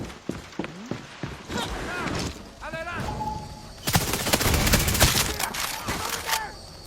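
A silenced gun firing in Far Cry 6, producing a run of quick, fairly close shots with footsteps and game effects around them, the firing growing denser toward the end.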